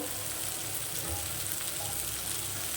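Spice paste for pabda fish curry frying in a pan, a dense, steady sizzle heard close up with no talking.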